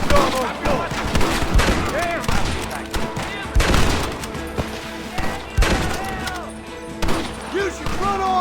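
Gunfire in the Red Dead Redemption video game: repeated loud shots and bursts crack through an ongoing firefight, layered over game music and shouted voices.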